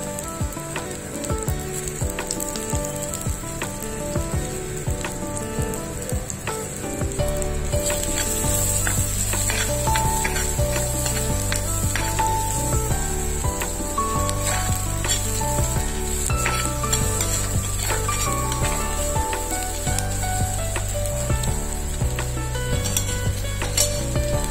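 Onions frying in oil in a pan for a ragi prawn pasta, a steady close sizzle that grows louder and denser partway through, with occasional stirring and light utensil clinks, no talk.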